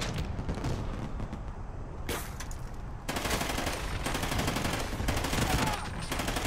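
Gunfire in the Call of Duty: Ghosts video game: dense, continuous rapid shots and bursts, loud and near, with a brief lull before the firing resumes heavily.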